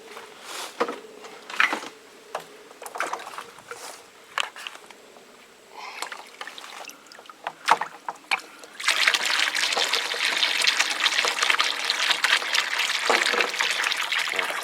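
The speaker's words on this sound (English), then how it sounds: "we'll fill this little watering trough up" Water trickles and then pours into a small watering trough outdoors, starting as scattered splashes and dribbles before a sudden steady gush fills it, close and continuous.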